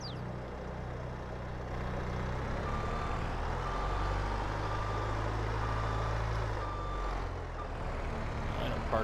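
Skid loader reversing beeps in Farming Simulator 22, a faint steady series of evenly spaced beeps over a low engine drone, with no speech.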